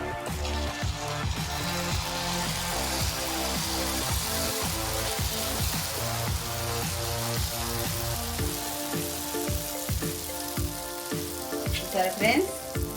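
Yellow jalebi frying in hot oil gives a continuous bubbling sizzle with rapid popping crackles, close and steady throughout, with a few sharper pops near the end and no talking.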